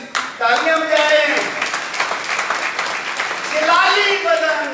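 During a Sunday church service the congregation claps in a brisk, sustained burst while a preacher keeps talking over it.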